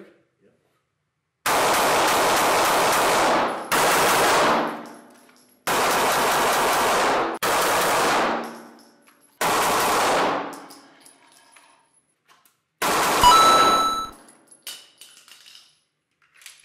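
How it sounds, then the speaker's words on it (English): A SIG P365XL Spectre Comp and a standard P365XL pistol fire in turn on an outdoor range: six sharp, loud bursts of rapid shots, each lasting about two seconds, with short silent gaps between them and a faint tail after the last. "Shooting the Spectre Comp next to my standard XL"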